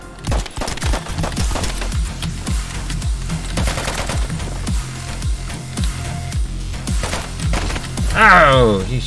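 Gunfire rings out in the video game Intravenous, including shotgun blasts: rapid loud repeated shots that go on throughout, with a voice talking over them.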